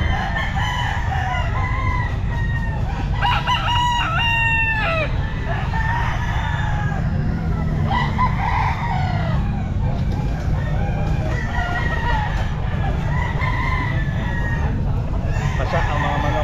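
Roosters crow repeatedly at a busy outdoor pet market, several overlapping cock-a-doodle-doo calls with clucking fowl over a steady crowd murmur.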